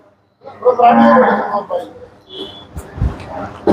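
A Haryana Murrah buffalo on a farm in Solapur gives one long, loud, deep moo, followed by quieter rustling and knocking noises.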